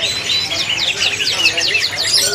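A male spotted white-rumped shama sings at a bird market, a loud, close run of rapid repeated high whistling phrases carried over a constant low crowd murmur.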